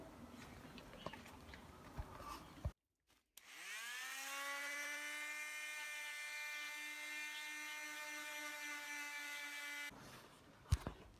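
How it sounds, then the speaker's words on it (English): A high-pitched electric motor whines steadily for several seconds as a power sander works a surfboard with 180-grit paper, with brief quieter handling noises before and after. "Just sanding."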